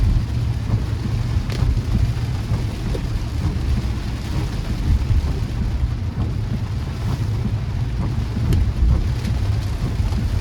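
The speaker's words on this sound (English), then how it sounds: "it's definitely raining in downtown Miami" Heavy rain falls steadily on a car driving through downtown Miami, a dense, constant hiss over a low road and engine rumble that holds for the whole stretch with no one speaking.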